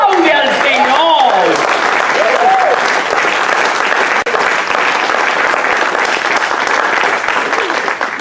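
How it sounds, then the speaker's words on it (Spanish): A church congregation claps in sustained applause, loud and continuous, with a raised voice calling out over it at the start. "¡Aplaude al Señor!"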